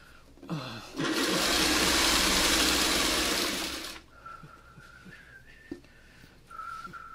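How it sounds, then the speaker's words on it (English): A sewing machine stitching a dark fabric to a blue fabric runs in one loud, steady whirring burst of about three seconds, followed by quieter clicks and handling sounds. "you are sewing a dark. You're sewing a dark to a blue"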